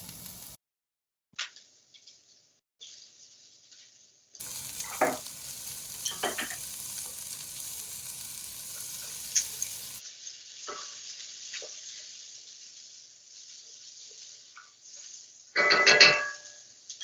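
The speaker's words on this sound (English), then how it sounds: "my onion is sizzling nicely. It's just starting to saute." Onion sautéing in a hot pan, a steady sizzle with intermittent stirring scrapes and a louder burst of frying near the end, heard up close with no talking.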